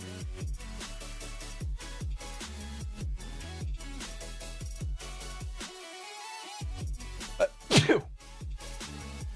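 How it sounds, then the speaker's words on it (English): A single sharp sneeze near the end, loud and close, following a stretch of muffled rhythmic background sound. "That was a good sneeze."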